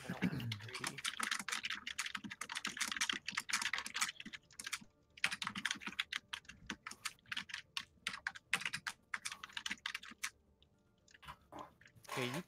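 Rapid computer keyboard typing, dense irregular clicks and clacks close by, continuing almost the whole time with a brief pause near the end and faint talk in the background.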